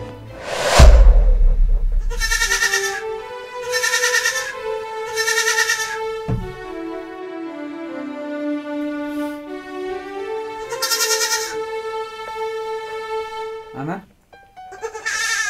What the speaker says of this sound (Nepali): बाख्रा पो कराउँछ त, माथिल्लो घरको बाख्रा फुकेर आयो कि क्या हो?